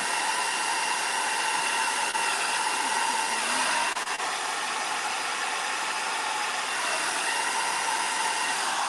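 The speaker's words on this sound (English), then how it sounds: "I'm going to hit it with a blow dryer before we get those sprinkles on there." A blow dryer runs at a steady, loud, close whir throughout, drying wet paint on a gingerbread house, with a brief shift in tone midway and no talking.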